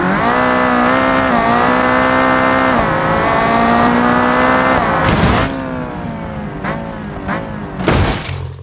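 A Ferrari supercar engine in a racing video game drones steadily for about five seconds with shifting pitch, then several sharp bursts and revs break through as the steady tone drops away.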